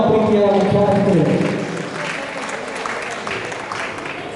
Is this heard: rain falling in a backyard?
no